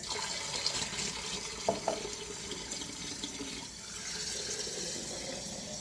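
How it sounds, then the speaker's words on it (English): Water poured into a pot of veal fricassee with stock and bone broth, a continuous close splashing and trickle with a couple of brief clinks. "I can add a little bit of water with this."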